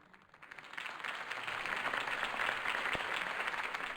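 Crowd applause in a video game following Harvey Dent's campaign speech, a steady wash of clapping that swells from quiet to full and holds, distant and diffuse.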